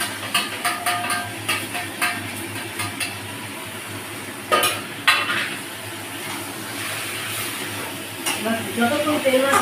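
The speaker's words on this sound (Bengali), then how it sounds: "যতক্ষণ তেল না ছাড়ছে মাছগুলো ভাজতে থাকবে।" Fish frying in hot oil for a Bengali chicken curry made with fried onion, a soft steady sizzle under repeated clinks and scrapes of a spatula against the pan, with a few louder knocks near the middle.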